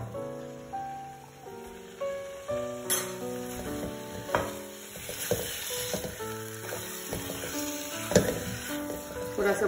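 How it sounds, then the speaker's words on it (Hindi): Salted mutton pieces go into a hot pan of spices for a Bengali mutton gravy, sizzling and popping loudly up close, with stirring scrapes and clatters and a tonal hum underneath. "अब हम ये मटन इसमें डाल देंगे"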